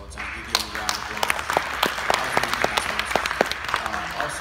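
Audience at a teen scholarship awards event clapping in a round of applause, scattered individual claps standing out over a moderate crowd wash, with some voices mixed in.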